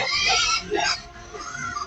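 A pig grunts and oinks in short, snorting bursts, close up, with people talking around it.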